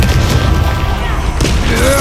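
Confringo blasting spell exploding in Hogwarts Legacy, a loud booming blast with rumbling low-end that stays heavy throughout, followed by a second burst of impact partway through.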